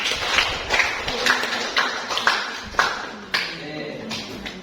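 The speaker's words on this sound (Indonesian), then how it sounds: "Tepuk tangan untuk Nadia" Short round of classroom applause for a student in a Grade 7 junior high science lesson, with scattered hand claps at an uneven rhythm and light voices murmuring underneath.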